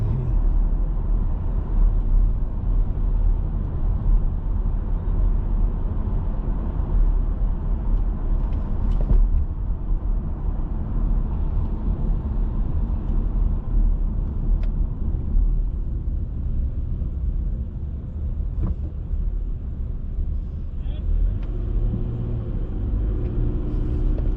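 Steady car engine and road rumble from a vehicle driving through New York City streets in Queens, between Union Turnpike and Junction Boulevard, continuous and close with traffic noise around it.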